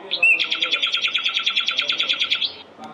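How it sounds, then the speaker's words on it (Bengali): A nightingale sings a fast, bright trill of about twenty evenly spaced pulses, loud and close, lasting over two seconds before stopping abruptly, with a faint background hum. "নাইটিঙ্গেল, পাপিয়া।"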